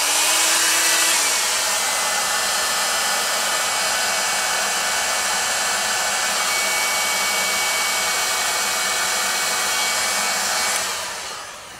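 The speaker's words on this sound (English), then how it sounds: "I use my hot air gun to help that." A hot air gun blows steadily to dry glue on leather during bushcraft leatherwork, a loud continuous whooshing roar that holds for about eleven seconds before cutting off.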